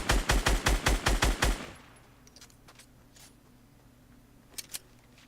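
A rapid burst of about eight loud shots opens, then fades into quiet ambience with a couple of faint distant cracks, gunfire from a Fortnite duo match.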